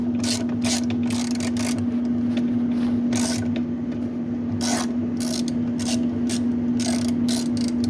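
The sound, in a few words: 7/16 socket ratchet removing washing machine agitator bolt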